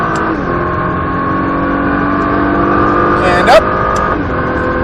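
Car engine pulling steadily at full throttle on a track, a sustained droning roar with a rising pitch and a brief sharp burst near the end, loud and close throughout.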